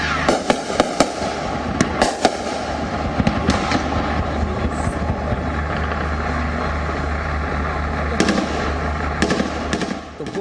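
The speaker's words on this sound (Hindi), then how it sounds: "गोलीबारी और बारूद के धमाकों की यह धमक" Gunfire and explosions on the front line near Bakhmut in the Russia-Ukraine war crack out as sharp, irregular bursts over a constant roaring rumble, loud and continuous.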